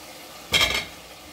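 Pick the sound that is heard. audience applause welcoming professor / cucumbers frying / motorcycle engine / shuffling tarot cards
cucumbers frying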